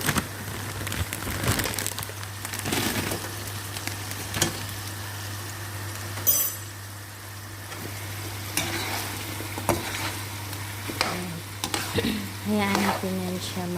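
Frozen spinach hits a hot pan and is sautéed, giving a steady sizzle broken by repeated scraping stirs and clatters of the utensil, heard close up with no talking.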